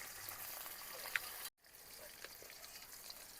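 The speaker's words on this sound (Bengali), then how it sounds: "এই মাছগুলো ভেজে নিই, তারপর সে মাছগুলো একসঙ্গে ভাজবো।" Fish frying in a pan for a village-style fish dish, a faint continuous hiss and crackle of oil with a brief cut partway through.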